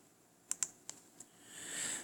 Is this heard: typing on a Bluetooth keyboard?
yes